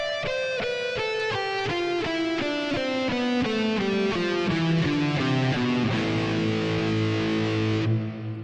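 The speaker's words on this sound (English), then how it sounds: "we can play this in its purest form with the notes that we would use in this progression just as a descending scale" A distorted electric guitar plays a descending A natural minor scale, with evenly picked notes stepping steadily downward. It ends on a loud, ringing low chord, with the guitar playing alone throughout.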